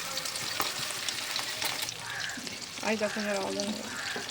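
Fish frying in hot oil over a low-to-medium gas flame gives a steady, close crackling sizzle throughout, with occasional sharper pops and a brief voice-like tone partway through.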